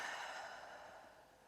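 A deep, slow breath taken during a stretching exercise, breathing low into the lower ribs: a single soft, airy rush of air that fades gradually, close and quiet with no speech.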